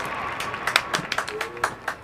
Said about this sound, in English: And a round of applause for Dead Man's Uke,